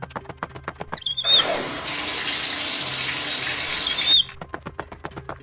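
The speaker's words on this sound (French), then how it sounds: "je vais prendre une douche, je reviens." A shower is turned on, runs as a steady hiss of spraying water for about three seconds, then stops, with squeaks from the tap at the start and end.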